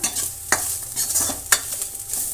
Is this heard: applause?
no